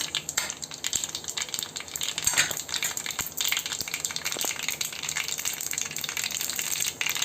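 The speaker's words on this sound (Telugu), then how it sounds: "ఆవాలు బాగా చిట్టపట్టమని చక్కగా వేగాలండి" Mustard seeds crackle and spit in hot oil for a curry, a steady close sizzle with small sharp pops scattered all through.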